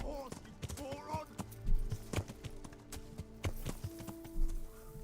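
Horses in the medieval video game Kingdom Come: Deliverance clop along with irregular, close hoof thuds and clatter, mixed with scattered game sounds and brief vocal noises.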